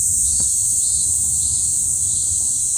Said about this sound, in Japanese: このセミの音を、綺麗に取り除く方法っていうのを皆さんにね、ちょっと、伝授できればなと思います